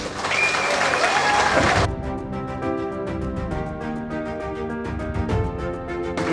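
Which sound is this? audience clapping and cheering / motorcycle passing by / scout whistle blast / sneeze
audience clapping and cheering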